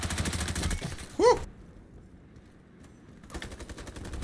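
Rapid bursts of light machine gun fire in the online shooter Ironsight Season 6, heard as fast rattling volleys at the start and end around a brief excited vocal shout.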